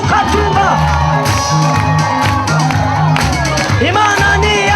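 Church congregation at a Burundi prayer gathering cheering, whooping and shouting in a loud, continuous crowd roar, with voices rising over it throughout.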